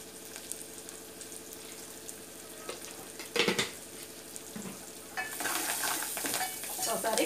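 Sliced onions and green chilies fry in a pan for a drumstick tomato curry, a steady close sizzle with scraping stirs and spoon clinks that grows louder and hissier toward the end.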